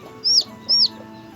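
Two high, bright peeps from newly hatched chicks beside a hen, close by and clear over a quiet background with no talk.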